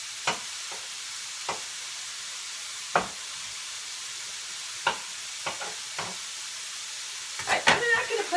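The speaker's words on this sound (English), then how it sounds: "I am going to have my celery and onions cooking right along with my sausage" Celery, onions and sausage fry together in a pan with a steady close sizzle, broken now and then by the knocks and scrapes of stirring, with clustered clatter near the end.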